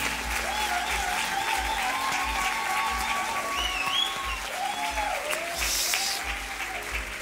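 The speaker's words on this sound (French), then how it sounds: "j'aimerais qu'on puisse les applaudir encore une fois" Audience applauding at a church graduation ceremony, a steady broadband clapping that carries through, with sustained music or tones underneath.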